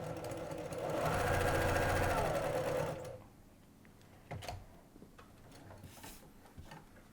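A sewing machine stitches a seam in a steady, fast mechanical whir for about three seconds, then stops, leaving quieter handling clicks and faint background sounds.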